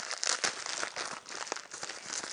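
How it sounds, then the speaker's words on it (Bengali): Plastic jewellery packet being opened close up, with a run of crisp crinkling and crackling bursts that come in quick irregular bursts, with no talking over them. "দাঁড়াও, এটার প্যাকেটটা এখনো খোলা হয়নি, তোমাদের সামনেই খুলছি।"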